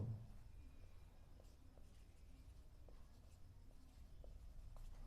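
Chalk or pen writing during a physics lesson on area and error, faint scratchy strokes in short irregular bursts over a quiet room hum, with no talking.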